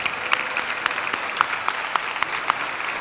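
Applause from an audience at an inclusion fashion day event in Ibiza, a steady wash of clapping with sharper individual claps standing out, sustained and moderately loud throughout with no talk over it.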